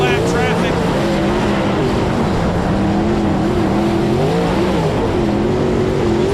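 Race cars roaring around a dirt oval in MARS Series racing, engines droning continuously with rising and falling pitch as the leaders cut through lapped traffic, loud and steady under a commentator's voice.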